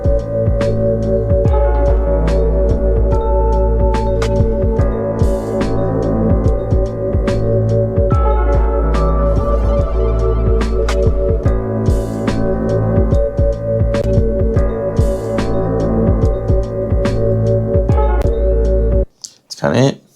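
A remade sample-based beat plays loud and dense, with piano, bells, atmosphere and added effects over a steady rhythmic pulse, running continuously before cutting out near the end.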